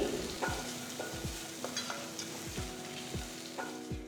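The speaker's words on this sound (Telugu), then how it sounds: "ఉసిరికాయ తురుముని రెండు నుంచి మూడు నిమిషాల వరకు కలుపుతూ ఉండాలి" Grated amla frying in a pan, stirred steadily with a spatula: a continuous sizzle broken by regular scraping strokes about every half second, close and fairly loud, with no voices.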